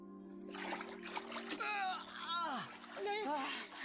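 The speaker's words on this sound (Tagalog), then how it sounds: "Ang lakas ng ampas ng tubig." Water splashes and sloshes in a dramatized wave scene, layered under overlapping voices with whooshing, warbling effects.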